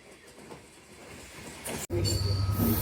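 Passenger train rolling along the railway near the Jurain rail gate in Dhaka: a low rumble builds steadily, then after a brief sharp break a louder, closer rolling roar of wheels on track takes over with some high tonal squeal.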